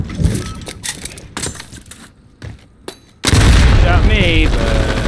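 A Call of Duty Modern Warfare Domination match on the Piccadilly map crackles with scattered gunshot bursts, then erupts into a loud, sustained roar of explosions and heavy fire that drowns everything else.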